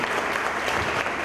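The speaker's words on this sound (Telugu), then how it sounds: "ఒకసారి చప్పట్లు కొట్టి" Applause from an audience at a church opening ceremony, a brief dense burst of steady clapping close by.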